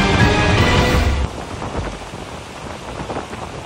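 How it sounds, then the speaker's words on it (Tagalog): Typhoon Opong's strong wind and heavy rain lash Boracay in Malay, Aklan, a loud dense roar of downpour and gusts that drops abruptly to steadier, softer rainfall with scattered drops. "Tila isinayaw ng malakas na hangin kasabay ng ulan ng mga sanga sa Boracay sa Malay, Aklan"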